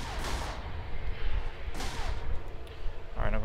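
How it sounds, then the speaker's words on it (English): Ship guns firing in the space game EVE Online during a military mission, a few sharp booming shots spread across a few seconds over a dense background rumble. "I'm using F1 to turn on and turn off the guns as needed."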